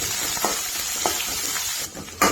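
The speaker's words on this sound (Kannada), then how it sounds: "ಉಳ್ಳಾಗಡ್ಡಿ ಮತ್ತು ಮೆಣಸಿನ್ಕಾಯಿ ಎಲ್ಲ ಎಣ್ಣೆ ಒಳಗೆ ಕರ್ದಂಗೆ ಆಗಬೇಕು ರೀ" Chopped onion, green chilli and mustard seeds frying in oil over a medium flame for masala dosa filling: a steady close sizzle with a few soft stirring bumps and a brief lull near the end.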